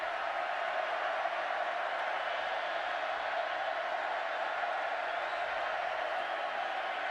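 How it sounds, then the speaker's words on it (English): Steady, dense roar of a big football stadium crowd in Waco during a college game, a broad wash of cheering and noise that holds loud and even throughout with no breaks. "Crowd knows it. Getting loud here in Waco."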